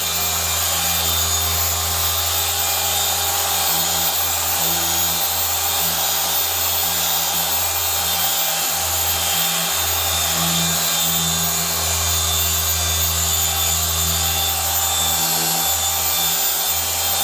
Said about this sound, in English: You just make sure that the polisher touches all of it, and you work at your own pace.